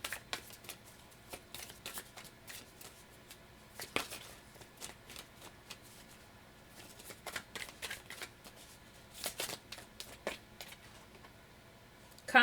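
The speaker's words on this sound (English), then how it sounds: "So let's pull a card." Tarot cards being shuffled by hand and drawn, repeated crisp riffling and flicking bursts in an irregular rhythm, close and fairly quiet, with no talking over them.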